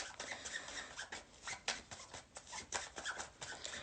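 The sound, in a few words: shuffling a deck of tarot cards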